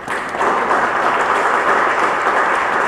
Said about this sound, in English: Just a round of applause for Pavel for being with us.